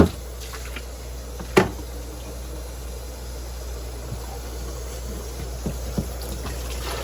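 Soft trickling and gurgling of used water being forced through a valve on an upturned shrimp hatchery, with a few small clicks and splashes over a low steady hum.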